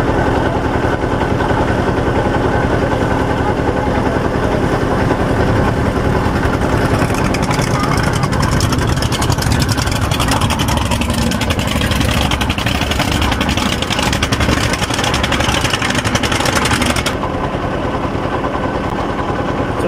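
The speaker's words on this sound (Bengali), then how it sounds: "এই নদীতেই দেখতে পাচ্ছেন খড়ের নৌকা চলাচল করছে দুটি একসাথে।" Motor-driven river boats loaded with straw travel along a Chalan Beel river in the rainy season, their steady engine drone continuous and fairly loud throughout, with wind and water noise around it.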